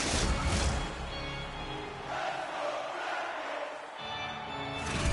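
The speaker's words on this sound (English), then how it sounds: "You can feel the energy in this crowd." Arena crowd noise in the hockey video game EA Sports NHL 25, a dense, steady roar of a packed crowd that swells and dips slightly for several seconds, with no clear voice on top.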